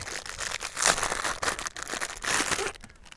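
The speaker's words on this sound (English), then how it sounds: "Unwrap the filler port." Plastic wrap being peeled and crinkled off the filler port of a DEF jug, close-up, with continuous rustling and crackling that swells and fades for a few seconds.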